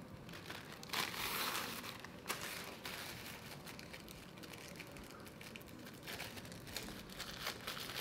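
Clinical waste bag handled in a skills lab, crinkling and rustling continuously up close with scattered sharper crackles, fairly quiet throughout.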